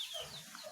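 Young chicks peep on a farm with a few faint, high chirps that sound thin and distant over a low background hush.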